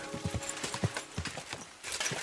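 Horse hooves clip-clop in Kingdom Come: Deliverance 2, a quick uneven run of distinct hoof strikes at moderate volume, near and alone without talk.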